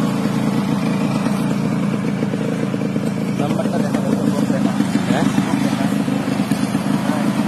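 A 1987 Yamaha RX100 motorcycle being ridden on the road, its engine droning steadily and close with wind noise, while a person talks over it.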